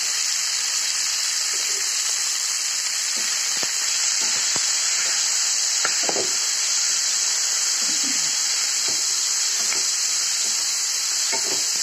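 Chopped fenugreek leaves and tomatoes sizzling in a pan, a steady bright frying hiss throughout with occasional scrapes and clicks of stirring, close and loud with no talking.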